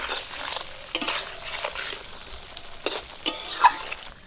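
Ilish (hilsa) fish pieces being stirred in a pan with a utensil, giving soft scraping strokes and a few light metallic clinks over a faint background hiss.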